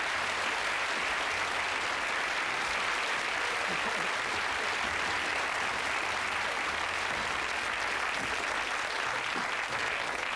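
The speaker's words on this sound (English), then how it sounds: "give them a big round of applause" A theatre audience at a comedy magic show claps in sustained, dense applause, loud and even from start to finish with no pauses.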